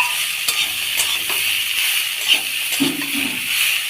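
Sweet potato and bitter gourd sauté in a pan, village-style Bengali cooking, with a soft continuous sizzle under a few light scrapes of a spatula, close and steady.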